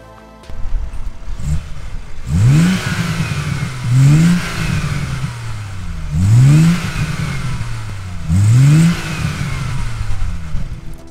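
A BMW B58 inline-six fitted with a hot climate air intake revs repeatedly, four rising blips with intake whoosh and a falling settle after each, loud and close over a steady idle.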